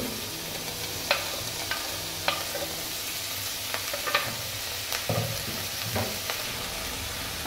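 Chopped onion, green chili, tomato and capsicum fry in hot oil with a steady broad sizzle, broken now and then by light stirring clicks and taps from a utensil against the pan, no talking.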